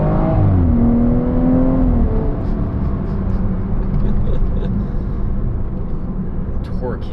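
A BMW F30 340i on a stage 2 transmission tune pulls hard from a standstill, its engine note rising in a loud, continuous rush heard from inside the cabin, with excited talk over it.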